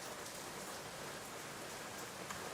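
Rain ambience in the Caves of Qud video game, a soft, steady hiss of falling rain with faint scattered drops, continuous and fairly quiet throughout.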